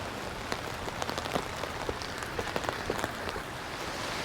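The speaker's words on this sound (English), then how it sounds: "It's still a treat to walk in the rain" Steady rain falling around a walker in Echo Park, Los Angeles, a soft constant wash with scattered close drops tapping on surfaces, calm and windless, no voices.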